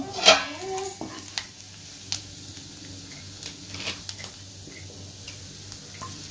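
Grated coconut roasting in ghee in a kadai is stirred with a spatula, giving occasional sharp scrapes against the pan over a faint, steady sizzle at moderate distance.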